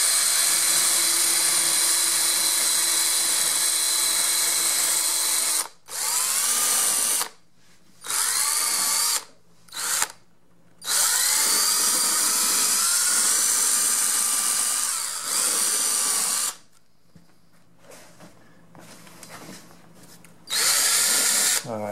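A power tool sands a motorcycle saddle seat, giving a loud close high-pitched whine in long bursts separated by short pauses.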